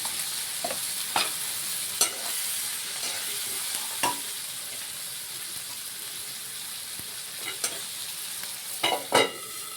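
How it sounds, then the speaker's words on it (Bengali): Potatoes salted and frying in a pan for a Bhola fish curry with aubergine, sizzling in a steady broadband hiss with occasional sharper pops and crackles and a few stirring scrapes, with no one speaking. "ঢাকা দিয়ে আমরা 1 থেকে 2 মিনিটের মতো লাল করে ভেজে নেব"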